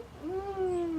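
A domestic cat lets out a single drawn-out meow, close and clear, rising then holding steady for most of a second with nothing else audible.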